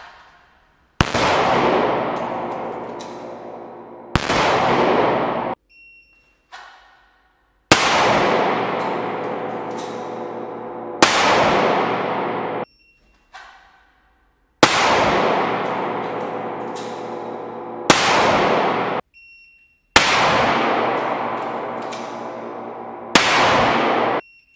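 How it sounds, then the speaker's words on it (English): Gunshots in a 10-round handgun shooting drill, fired from ready and concealment: sharp, loud reports come singly and in quick pairs with short pauses between, each followed by a long ringing decay. No one speaks. "As I said, you're firing 10 shots."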